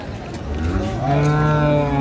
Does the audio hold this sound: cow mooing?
yes